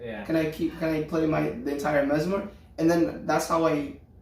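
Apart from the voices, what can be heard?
No distinct noise like a dog, phone or traffic.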